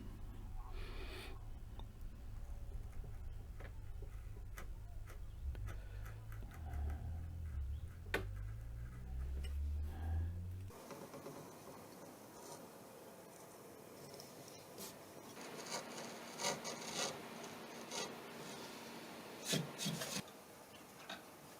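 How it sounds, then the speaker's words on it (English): A small V chisel cuts around the outer edge of a hand-carved wooden Viking design, giving soft scraping and rubbing strokes with light ticks, close and fairly quiet against a low background hum. "I'm going to start by using this small V chisel just to go around the whole outside edge."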